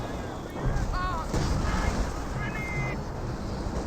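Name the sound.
grenade explosion in a video game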